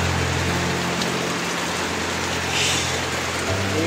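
Heavy rain pours down outdoors in a dense, steady hiss that fills the whole clip, with a low engine-like hum underneath and no voices.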